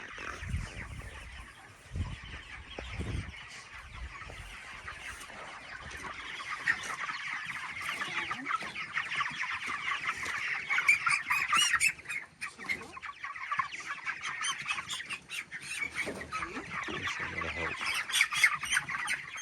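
Many chickens being loaded into a trailer cluck and squawk continuously at close range, a busy, overlapping flock chorus with occasional louder squawks.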